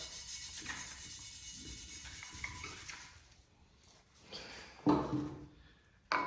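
Valve lapping on a 2JZ cylinder head seat: gritty, sandy rubbing and grinding close by, a rough back-and-forth scraping that thins out and pauses, with brief louder scrapes near the end.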